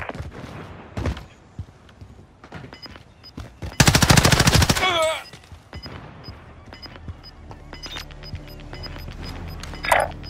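Automatic gunfire in the battle royale game Call of Duty: Modern Warfare Warzone, a loud rapid burst of about a second set against quieter scattered shots, game effects and faint radio chatter.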